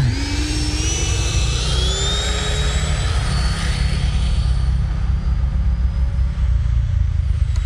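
A Freewing JAS-39 Gripen RC jet's turbine engaged for takeoff, a loud steady roaring whine with a rising pitch, close and continuous, with no talking.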